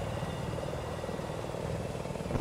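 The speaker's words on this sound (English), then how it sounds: "That attack chopper already, you see him?" An attack helicopter in a Battlefield-style video game on the Golmud Railway map, a steady, close rotor and engine drone that holds evenly throughout without talk.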